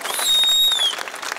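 Crowd applause at a political rally speech in Akole, a broad burst of clapping and cheering filling the whole moment with a brief whistle-like tone on top.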